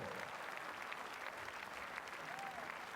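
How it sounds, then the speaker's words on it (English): An audience applauds the top three lead climbers on the podium at the 2015 IFSC Climbing World Cup in Kranj. The clapping is sustained and fairly distant, with crowd murmur and an announcer's voice over it. "One big applause, zdaj veliki aplauz za najboljše tri v težavnostnem plezanju."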